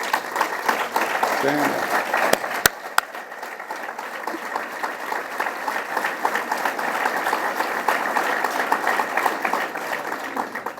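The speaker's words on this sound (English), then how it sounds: "let's give them all a round of applause" Sustained audience applause for elected officials at a Lake Ontario resiliency and economic development event with the governor, dense steady clapping filling the room throughout while a voice briefly speaks over it.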